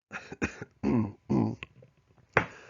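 Several harsh coughs in quick succession, close and loud, followed after a short gap by one more cough.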